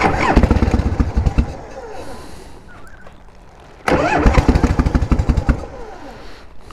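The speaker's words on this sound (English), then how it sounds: "Twist of the throttle or two and see how we get fired up this morning." A 1988 Harley-Davidson Heritage Softail with sidecar, cold and choked after sitting unridden, cranks and fires in two loud, close bursts of rough, throbbing engine noise, separated by a quieter lull of about two seconds.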